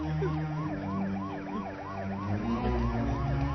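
An ambulance siren wails loudly in a fast, repeating up-and-down pattern while the vehicle arrives, with a low engine rumble underneath.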